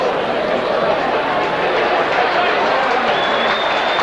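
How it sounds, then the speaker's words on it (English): Rugby league crowd at Warrington v Castleford applauding a successful goal kick, a steady broad wash of clapping and cheering that holds at a constant level throughout. "round of applause"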